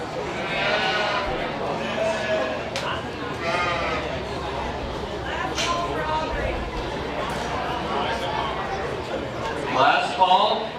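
Sheep bleat repeatedly at a county fair's sheep showmanship event, close and fairly loud, mixed with barn noise and a public-address announcer talking over them.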